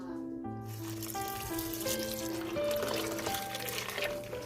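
About one liter of water pours steadily into a pot, the rising, ringing tone climbing in pitch as it fills, continuous and close.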